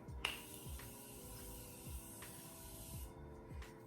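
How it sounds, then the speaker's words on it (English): A few short bursts of Morphe Continuous Mist Setting Spray, crisp hissy puffs spaced apart over a steady low background hum. "So I'm going to spray my setting spray one more time"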